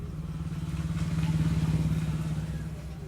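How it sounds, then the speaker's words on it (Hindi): A motorcycle ridden home along a road in the dark, its engine a steady, throbbing drone that swells slightly in the middle and stays close throughout. "इस अंधेरे में हमने बाइक को लेकर आए और घर की तरफ बढ़ने लगे"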